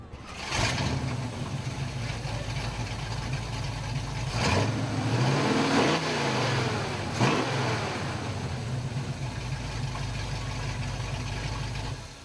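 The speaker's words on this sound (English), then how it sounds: "Can we hear this engine roar a little bit? Can you start it up?" A classic car engine at a car show idles with a deep rumble, then revs up loudly twice, the pitch sweeping up and back down before settling into a steady idle.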